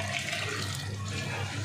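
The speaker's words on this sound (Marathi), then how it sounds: "आमटीला पाणी कसं काढतो ते बघा" Water is drawn in a village kitchen for a spicy kat amti curry, a steady, close, rushing pour that runs evenly without pause.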